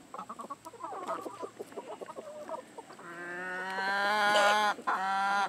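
Backyard chickens, including an Easter Egger, a Salmon Faverolles and a red-sided Yokohama rooster, cluck and chatter softly nearby, then a loud, drawn-out crow or call rises and holds for a couple of seconds.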